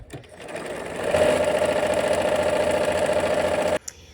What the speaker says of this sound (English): Take our couple stitches.